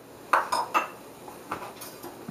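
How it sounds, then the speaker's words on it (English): Clinking metal strokes in a bowl as a whisk works ingredients together in a home kitchen, a few sharp irregular taps close by with quiet gaps between. "you have to whisk it in"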